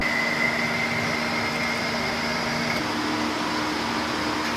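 Airlift 3H air suspension compressors run in a BMW F31 3 Series wagon, giving off a steady, close mechanical drone and whine that stays level from start to end.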